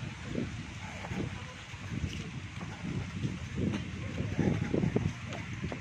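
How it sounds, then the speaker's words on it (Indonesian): Wind gusts and rumbles against the microphone outdoors on a clear, sunny day during an easy 2.3 km jog, a steady broadband roar with low buffeting bursts throughout. "cuaca cerah dengan angin berhembus yang menyegarkan"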